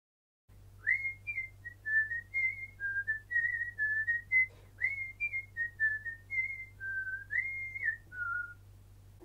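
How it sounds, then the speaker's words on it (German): Someone whistles a cheerful little tune, clear and fairly close, in a run of bright melodic phrases with short gaps between them and a faint low hum underneath. "Fröhlich pfeift sie ein Liedli"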